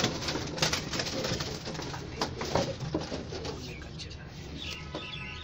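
Red-eyed pigeons in a loft cooing softly, with low murmuring coos and some fluttering and scuffling close by, along with other bird chirps in the background.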